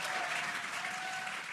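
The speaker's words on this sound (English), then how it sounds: "You can hear the crowd here." A crowd applauding and cheering the return of a Dragon capsule, dense continuous clapping with a raised roar of voices, loud and sustained throughout.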